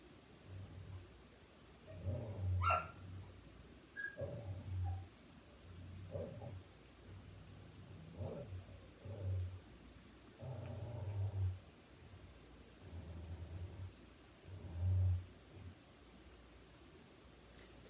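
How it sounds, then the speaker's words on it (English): Recorded dog barking and growling played at low volume as a desensitization sound, coming in several short bursts with quiet gaps between them over a steady background hum. "Go down a notch with the growling."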